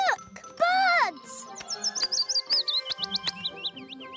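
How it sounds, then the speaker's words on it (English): Cartoon birds chirp in a pretty garden, a run of bright, quick tweets and warbling calls close by, with a cartoon voice squealing and speaking at the start. "look! Birds!"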